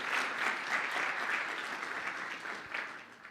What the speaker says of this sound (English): If everyone could just give him another round of applause for that amazing talk.